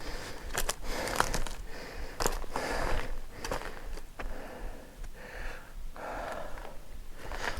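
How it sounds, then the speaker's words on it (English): Heavy, deep breathing after a climb inside an abandoned mine, with repeated loud gasping inhales and exhales heard close up, broken by faint scuffs. "Pardon my heavy breathing."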